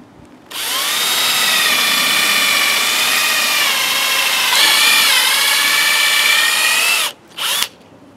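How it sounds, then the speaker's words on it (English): A power drill whines at high speed while boring a hole through the timber of a DIY hammock swing stand, loud and close for about six seconds, then a brief stop and a short final burst. "If not, I'm going to drill the first hole."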